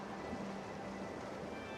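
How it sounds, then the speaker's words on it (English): Ocean waves in a Roblox game, a quiet, continuous surf wash with a low rolling rumble, steady and distant, with no voices. "The ocean."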